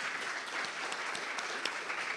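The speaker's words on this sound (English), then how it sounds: "please, to give Reverend Chris a rousing applause and welcome him to the stage." Applause from a congregation at a Sunday celebration service as a reverend is welcomed to the stage, a steady, fairly distant patter of many hands with no talk over it.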